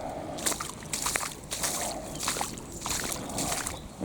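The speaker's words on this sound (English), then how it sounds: "just a hint of the gentle swell here" Gentle sea swell with white water and no wind, rhythmic sloshing and washing of water recurring every second or so at a moderate, close distance, with no talk.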